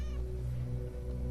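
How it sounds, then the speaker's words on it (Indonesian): A cat meows once, close and moderately loud, with a steady low background hum underneath. "Kucing. Kirain apaan."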